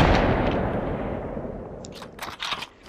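Rapid gunfire bursts from the Population One VR shooter game, loud and dense at first, fading into scattered sharper cracks and impacts near the end.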